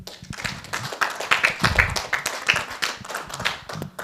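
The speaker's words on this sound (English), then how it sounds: "Give him a round of applause." A seminar audience breaks into applause, many hands clapping together in a brisk, sustained burst that stays fairly close.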